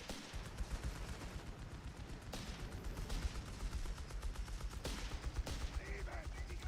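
A machine gun rattles in rapid, steady bursts in Company of Heroes 3, with other gunfire cracking amid the battle, all under live commentary.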